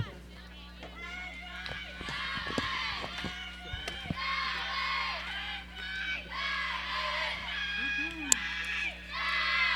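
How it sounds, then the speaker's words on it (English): Softball dugout players screaming and cheering during a high school game, a sustained chorus of high-pitched shouting voices with a steady background hum and a few sharp bursts. "You can hear the dugout screaming."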